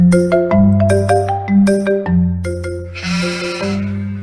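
A sheep bleats in a series of loud, wavering calls, repeated in quick succession with no voices around.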